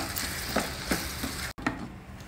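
Chopped tomatoes sizzle steadily in a hot pan, with soft scraping stirs breaking through the constant frying hiss.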